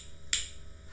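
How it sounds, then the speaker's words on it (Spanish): One crisp finger snap, part of a cumbia rhythm lesson, rings out sharply near the start and decays quickly over a faint electrical hum. "K se hace con chasquido."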